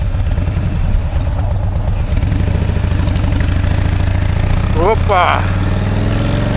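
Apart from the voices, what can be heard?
motorcycle engine running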